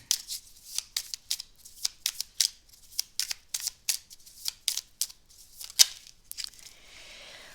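Tarot cards are shuffled by hand, a rapid series of crisp riffling snaps in an even rhythm close by, ending with a softer slide as a card is drawn.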